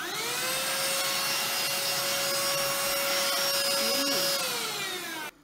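A compact Homekane handheld vacuum cleaner runs steadily and up close, a constant whine with a rushing airflow hiss that holds for about five seconds before cutting off abruptly.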